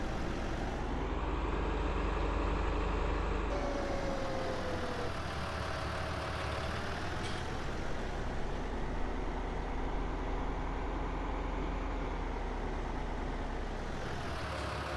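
In Farming Simulator 19, a tractor engine idles as a steady, moderately loud drone that holds without pause. The pitch of the hum shifts slightly partway through.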